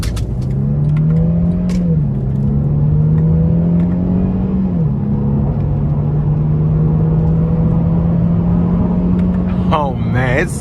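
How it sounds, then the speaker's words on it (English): A 2012 Mercedes-Benz E350 V6 under hard acceleration with paddle shifts, heard from inside as a loud, steady engine drone that steps down in pitch at each upshift, with voices briefly breaking in at the very end. "Now I'm gonna put my foot in it and use the paddle shifters."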